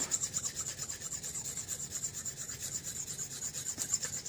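Glue residue scraped off an arrow shaft during re-fletching, a close, quiet, continuous rasping rub with a fast back-and-forth rhythm and no talking.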